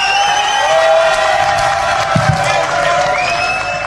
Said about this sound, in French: Des acclamations pour son Excellence.